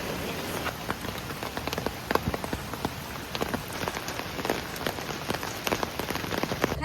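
Rain patters on an umbrella at The Island, dense irregular taps of drops close overhead over a steady hiss, with no talking.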